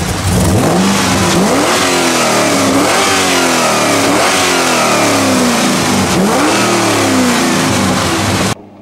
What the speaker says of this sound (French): je vais refaire quelques rupteurs